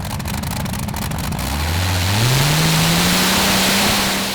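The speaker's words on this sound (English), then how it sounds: "let's see if he can move the checkered flag with his Rolls-Royce Griffin engine" Green Spirit, a pulling tractor powered by a Rolls-Royce Griffin aero engine, roars loudly at the Eurocup tractor pulling finals in Brande, Denmark, its deep engine note rising steadily in pitch as it pulls away and holding strong to the end.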